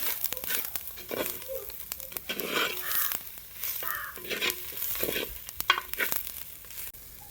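Ingredients for a Kerala-style mackerel (bangude) fish curry masala frying in a pan, a soft sizzle broken up by repeated stirring scrapes and rustles, fairly quiet and close, with faint murmured speech.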